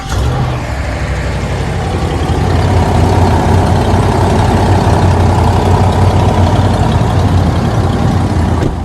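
A 5.7 Hemi truck engine idling after a cold start following eleven months of sitting at 99,832 miles, with an exhaust stud fault; a loud, steady low rumble with a constant throb and no talking.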